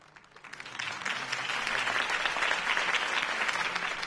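A video game crowd breaks into applause that swells after a quiet start and keeps going steadily, a dense patter of many hands clapping.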